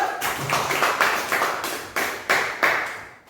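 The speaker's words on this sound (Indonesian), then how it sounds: "silakan berikan aplaus untuk kelompok 2" Applause from an audience for a presenting student group in a classroom, a thin scattered clapping that swells in several loose bursts over a few seconds, fairly close, with no talking.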